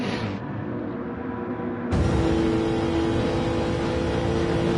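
A racing car in a GT sim racing game on the Nordschleife revs hard in fifth gear, a loud steady engine drone that jumps sharply louder partway through and holds, with no talk.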